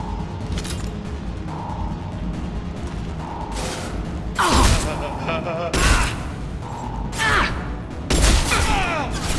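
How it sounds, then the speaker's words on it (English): Heavy gunshots and booms in the Mass Effect game ring out in several sharp bursts over a steady rumbling background, mixed with whooshing effects and some voice activity. "Firing a high-impact shot."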